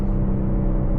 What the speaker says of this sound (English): This car burbles, but it doesn't pop though